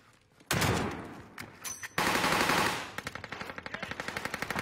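Rapid video game gunfire: loud bursts of automatic weapon fire, then a steady rhythmic string of close shots near the end.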